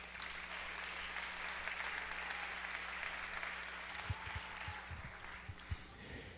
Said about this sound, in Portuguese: Quantos podem aplaudir o Senhor por essa